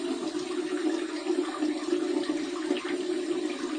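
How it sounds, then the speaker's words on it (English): An alum block held under a hot running tap, giving a steady, close rush of water with slight splashing variations throughout, no voices. "We're going to run this Allen block under some hot, hot, hot water."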